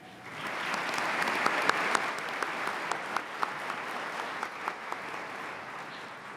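An audience at a college commencement ceremony breaks into warm, sustained applause. The steady clapping fills the hall, with a few sharper individual claps standing out, and it stays moderately loud throughout.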